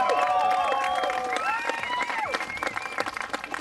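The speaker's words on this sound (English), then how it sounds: "thanks for cheering for me" A crowd at a bike fest stunt show cheers and claps, with high excited shouts and whoops up front that give way to scattered applause and voices as the noise settles.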